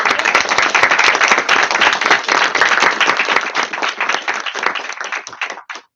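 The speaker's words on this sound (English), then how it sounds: "But let's give a round of applause" A round of applause fills a student senate meeting, many hands clapping densely and steadily for about five seconds before tapering off into a few last claps.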